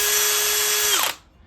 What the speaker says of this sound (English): So here I have a drill with an old prop shaft in it.